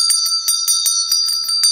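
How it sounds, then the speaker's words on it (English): A small bell rung during a tarot card reading gives a quick run of about nine bright, ringing strikes in steady rhythm, close and clear with no talk over it. "And we get to ring the bell."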